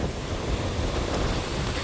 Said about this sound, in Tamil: எல்லாம் வந்து இங்கே வரைக்கும் கடல் அடிக்கிற ஒரு நிலைமையில் இருக்குது